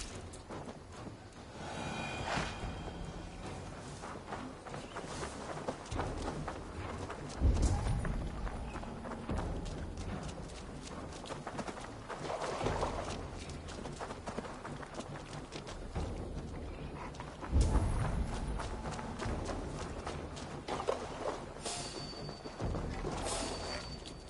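Horse hooves clip-clop steadily in Assassin's Creed Valhalla, a mid-distance rhythmic trot with a few heavier thuds, under game ambience and music.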